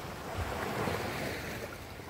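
Ocean waves wash in at high tide on a white sand beach resort in Unisan, Quezon, a steady soft roar of surf mixed with wind noise on the microphone, with no talking.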